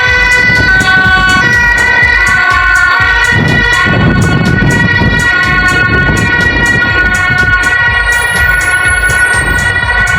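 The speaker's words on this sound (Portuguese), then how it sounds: "A polícia, a ambulância o tempo todo" An ambulance siren wails loudly and continuously on a street in Germany, close by with steady rising-and-falling tones over rumbling road traffic.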